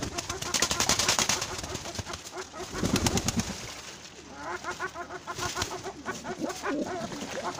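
Pigeons bathing in a small pool, with soft cooing, fluttering wings and splashing water at close range, while a person talks intermittently over them.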